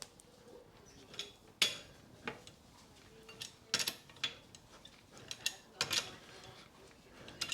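Bolts on the front brake of a 2005 Skoda Fabia 1.2 petrol are checked for tightness, giving faint, scattered metallic clicks and clinks from a tool in a quiet space.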